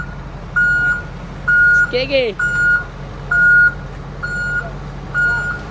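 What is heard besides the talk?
reversing beeps of a vehicle backing up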